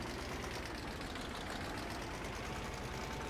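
A tractor engine idling steadily with a spreader load and front tray, a continuous low mechanical rumble that stays close and even throughout, with no talking.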